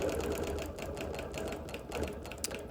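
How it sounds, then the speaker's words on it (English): Sewing machine quilting invisibly with clear thread around the patches of a show quilt, a rapid steady stitching rhythm running close and continuous with slight pauses. "So with the clear thread, I'm able to quilt invisibly. I'm just outlining the patches."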